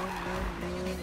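Tires skid and squeal as a car drifts in the Need for Speed video game on PS4, a steady continuous screech with engine drone, loud throughout a short burst.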